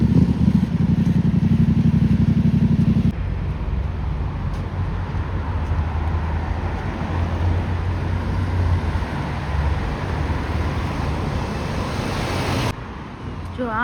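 A motorbike passes along a street in Israel beside roadwork, its engine noise blending into continuous traffic rumble, loud and close at first before settling into a steadier roar.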